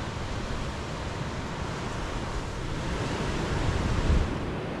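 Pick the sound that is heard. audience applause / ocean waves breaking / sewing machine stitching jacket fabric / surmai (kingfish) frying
ocean waves breaking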